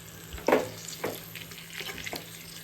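Chicken dry roast with green chillies and curry leaves gets stirred in a pan, a few distinct scraping strokes over a low steady sizzle, close and alone with no voices.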